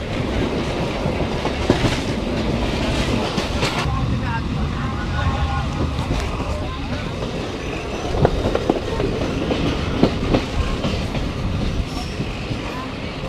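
A commuter express train on the Rajshahi to Rohonpur line runs steadily along the tracks, its rumble and clickety-clack close and continuous, with occasional wheel squeals and a voice talking over it.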